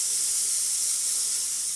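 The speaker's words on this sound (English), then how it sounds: "the steam boiler is working really well" Steady, loud hiss of steam venting from the serviced steam boiler of a Profitec Pro espresso machine, continuous and close with no pauses or voices.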